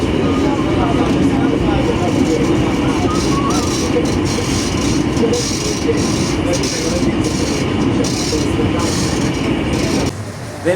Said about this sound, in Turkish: 20 dakika bir metro yolculuğumuz olacak.